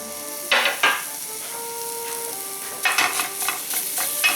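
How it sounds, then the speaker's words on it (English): Garlic hitting a hot pan and sizzling, with a couple of bright bursts of frying followed by a steady sizzle and stirring scrapes, close and loud with no talking. "Put the pan back on the heat, and then just go in with your garlic."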